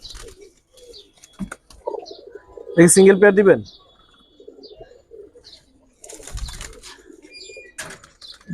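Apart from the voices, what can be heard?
high flyer pigeons cooing and flapping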